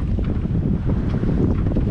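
Steady wind of about 11 knots rushes across the microphone aboard a moving sailboat, with water sloshing along the hull underneath, continuous and close.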